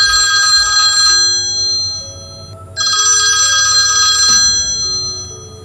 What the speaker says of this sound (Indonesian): Suara dering telepon terdengar memenuhi ruangan.